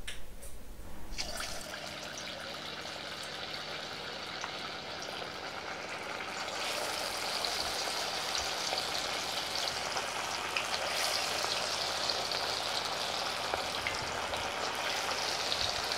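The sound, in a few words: chicken 65 pieces deep-frying in medium-hot oil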